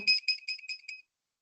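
An ultrasonic sensor's buzzer gives a rapid series of five high electronic beeps in quick succession, evenly spaced, then silence.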